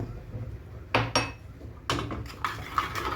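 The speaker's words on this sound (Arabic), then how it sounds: "ونقلب حلو، نقلب حلو جدا" A spoon clinks and scrapes against a coffee pot while stirring coffee, a few sharp metallic taps spaced irregularly over a low, quiet hum, close and moderately loud.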